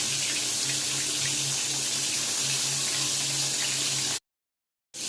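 Prawn 65, marinated shrimp, frying in hot oil with a steady, dense sizzle that holds at an even loud level for about four seconds, then cuts off abruptly into silence.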